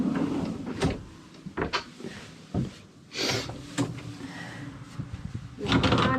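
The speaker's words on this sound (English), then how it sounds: "We've got under the bed" An under-bed drawer in a travel trailer slides and thumps repeatedly, with several sharp knocks and scraping runs at close range and no talk over them.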